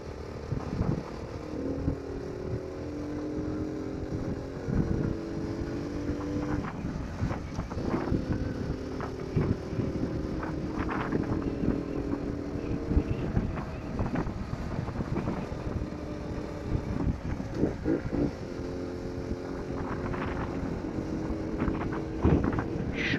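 Wind roars across the microphone over a running Skyteam T-Rex 125 motorcycle engine with no windshield, steady rushing and buffeting throughout and no talking.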